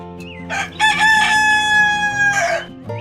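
A single loud, close rooster crow, a long drawn-out cock-a-doodle-doo with brief clucking at the start.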